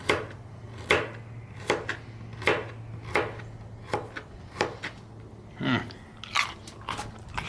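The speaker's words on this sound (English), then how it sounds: "Carrot's crunchy, y'all." A raw carrot is bitten and chewed up close, producing a run of crisp crunches and snaps that come in quick, uneven bursts, loud and close over a faint low hum.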